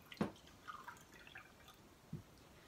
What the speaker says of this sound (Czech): Vařím čaj.